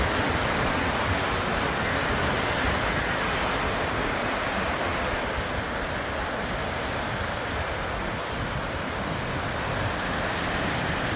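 Red Sea waves wash onto the beach at Hodeidah, Yemen, a continuous broad roar of surf at steady loudness with no voices over it.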